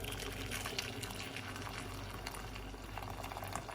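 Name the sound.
hot water poured into a bowl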